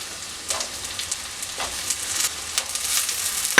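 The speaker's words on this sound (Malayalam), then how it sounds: "ഇത് ഒന്ന് വഴറ്റി കൊടുക്കാം" Cut potatoes added to softened onions sizzle in a hot pan for a Kerala potato and prawn stir-fry, a steady soft frying crackle with irregular spatter pops and occasional stirring, fairly close and quiet, with no talk.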